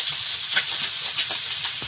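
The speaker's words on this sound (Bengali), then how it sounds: "একদিকে ভাত মাছ ভাজা সব চাপিয়ে দিয়েছি" Koi fish frying in a pan with oil, a steady bright sizzle throughout with small popping spurts, close up and with no talk.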